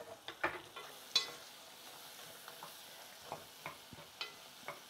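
Garlic mushrooms fry gently in a pan at low volume, with soft sizzling and scattered scraping taps of stirring, set as sharp isolated clicks above a faint background.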